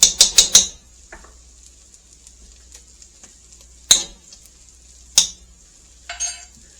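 Fresh garlic sizzles in clarified butter with a faint, steady hiss. A quick burst of sharp clinks opens it, and two more single clatters come later.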